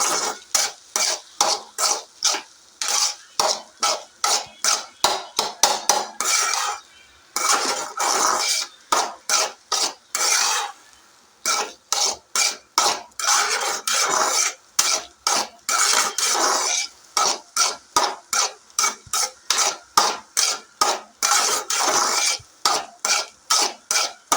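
Leftover cooked rice with egg and spices, stirred in a pan: close, rapid, rhythmic scraping strokes of a spoon, repeated throughout with short pauses, over a faint sizzle.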